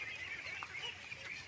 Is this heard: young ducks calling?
yes